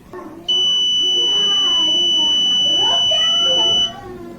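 A buzzer module on a Raspberry Pi fire detection setup sounds a loud, steady high-pitched tone for about three and a half seconds, with a person speaking underneath it.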